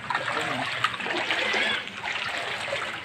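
Flood water flowing and splashing: a continuous, fairly close rushing wash with small splatters throughout.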